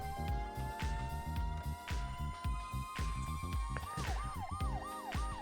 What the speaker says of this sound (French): Ensuite on a deux sirènes.